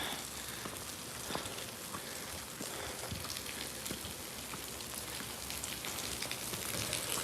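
Rain falls steadily during a walk around Harlan, Kentucky, with dense pattering and scattered sharper drops hitting nearby surfaces. The hiss is constant and fairly soft, and no one speaks.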